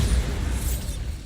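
Bombarda explosion spell in Hogwarts Legacy, heard as a short, heavy burst of low rumbling noise with crumbling debris texture, loud and close, lasting about a second.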